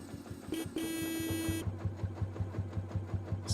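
A tractor engine from the video game Farming Simulator 17 chugs in a steady, rhythmic low pulse, with a brief high tonal whine sounding over it near the start.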